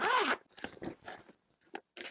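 Zipper on a heated throw blanket storage bag, pulled in a few short, close rasping strokes with brief pauses between them.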